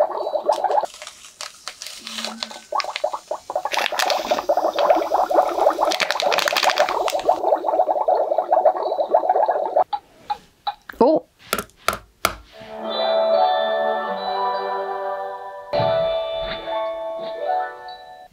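Magic Mixies toy cauldron bubbling and gurgling in a watery burst, with rapid squishy pops, followed by sharp clicks and brighter toy tones, close and fairly loud.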